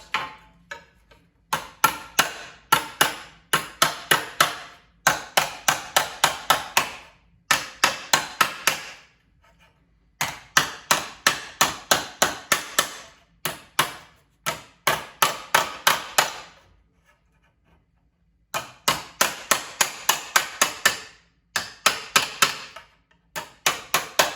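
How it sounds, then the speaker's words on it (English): A part from a 1968 AMC Rambler American is turned upside down and whacked on concrete, producing loud, sharp metallic impacts in rapid bursts of several blows with short pauses between them. "we'll just turn it upside down on the concrete and give it a few whacks"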